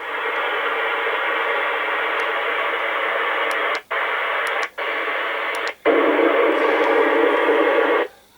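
A CB radio receiving on FM hisses with steady loud static, broken by three brief dropouts before the noise returns slightly louder and then cuts off.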